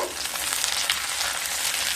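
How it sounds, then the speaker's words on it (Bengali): Onions and tomato fry in a pan with a strong, continuous sizzle and crackle, heard close up with no talking. "পেঁয়াজগুলোকে খুব ভালোভাবে ভেজে নেব"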